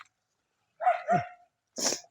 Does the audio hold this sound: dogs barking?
yes